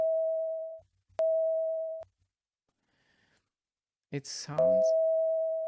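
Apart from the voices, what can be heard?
processed sine wave tone in Sound Forge Pro 12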